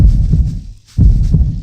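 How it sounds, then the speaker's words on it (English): A low, throbbing heartbeat thumps steadily and loudly in the video game Crappy Tube, pausing briefly before the pulsing resumes. "But I can hear my heartbeat."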